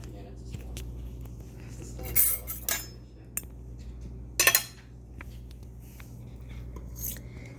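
A metal utensil scraping and clinking inside an Instant Pot while scooping out tender taco chicken pieces, a few scattered clanks and scrapes, one louder cluster midway, under a quiet background.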